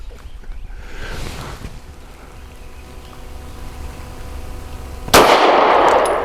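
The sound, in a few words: Taurus GX4 pistol firing a snappy load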